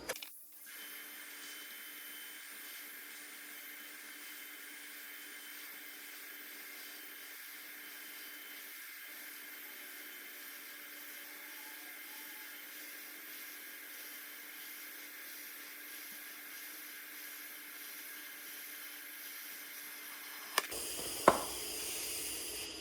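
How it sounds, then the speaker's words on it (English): A Bestarc multi-process welding machine lays a TIG weld on 220 volts, turned up to its 145-amp maximum. It gives a faint, steady hiss and hum that runs unbroken, then ends with a couple of sharp clicks. "I have to say she'll TIG, my friend. Not a bad TIG weld."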